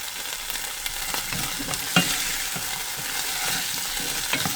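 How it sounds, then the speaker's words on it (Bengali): Papaya curry vegetables fry and sizzle in oil in a pan, with a steady hiss and repeated scraping stirs, one sharper clink near the middle, close and moderately loud with no talk. "এটার একটু কষাই নিই ভালো করে।"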